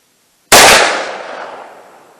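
A single .357 Magnum or .38 Special revolver gunshot fired into ballistic gel, loud and sharp, with a sudden blast that decays over about a second and a half, heard alone without talk.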